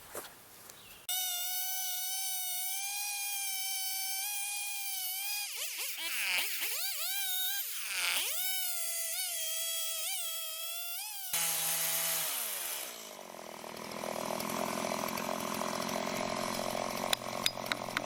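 Chainsaw mini mill with a dull chain ripping lengthwise through a log, the engine droning loud and close with revving dips and surges, then shifting to a rougher, noisier cutting tone near the end.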